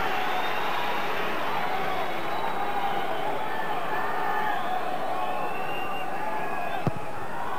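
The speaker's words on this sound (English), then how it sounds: "the fans now cheering Arteta on the other side" Dense roar of a large football crowd cheering continuously throughout a Rangers v Milan match, a steady wall of massed voices with a brief sharp knock near the end and a commentator talking over it.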